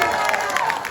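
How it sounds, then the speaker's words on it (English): A convention panel audience at an anime expo breaks into brief clapping and cheering, a short burst of crowd noise mixed with raised voices. "Can we get a round of applause?"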